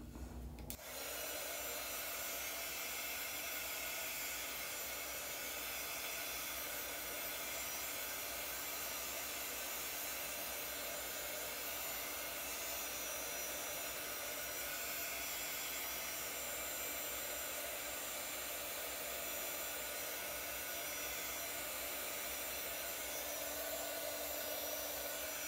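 A heat tool blows steadily and loudly for the whole stretch, drying layers of Perfect Pearls mica powder on a craft surface, a constant close whooshing roar with no talk over it.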